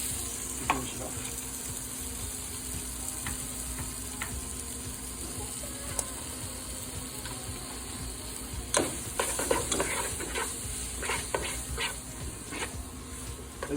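Salmon and spinach fry in butter in a hot pan, a continuous close sizzling hiss that holds steady throughout, with a few brief clinks and stirring scrapes toward the end.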